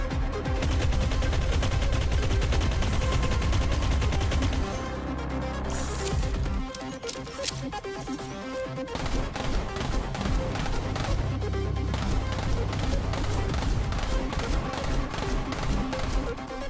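Rapid automatic gunfire in the video game Deadzone Rogue, dense bursts of shots that pause briefly midway and then resume, loud and close.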